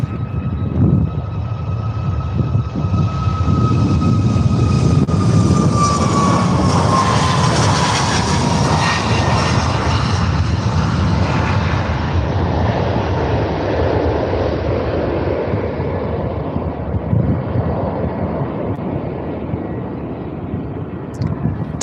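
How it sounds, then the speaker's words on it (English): TUI airliner taking off at Faro airport for Brussels, a loud sustained jet roar with a whining engine tone that sweeps downward as the aircraft climbs away, filling the whole stretch before slowly easing. "TUI off to Brussels"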